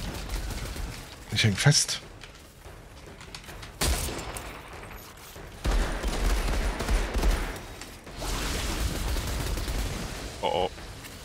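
Gunfire in the video game Outriders: several bursts of shots and booms spread across the scene, mid-distance, with someone talking in German over the action.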